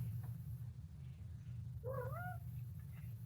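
A cat gives one short rising-then-falling meow, faint and somewhat distant, over a low steady background hum indoors.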